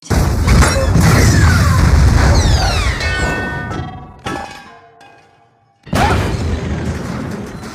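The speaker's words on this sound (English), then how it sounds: "Wow! That explosion was awesome!" A loud explosion sound effect from the animated series Red vs Blue, with a dense roaring blast that fades into debris and ringing before a second heavy burst hits.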